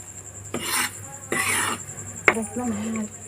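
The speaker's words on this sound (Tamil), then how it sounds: "ஸோ இந்த மாதிரி நம்ம நல்லா மிக்ஸ் பண்ணி விட்டுக்கலாம்." Thick Ashoka halwa mixture of wheat flour is stirred in a pan on the stove. A spoon makes three separate rasping scrapes across the pan, each lasting about half a second, with a small clink of metal.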